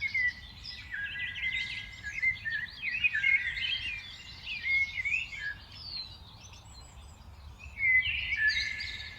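Birds of several species chirp and warble in a New Jersey park. The calls are bright and overlapping, coming in bursts over a soft low rumble of background noise, with no voices.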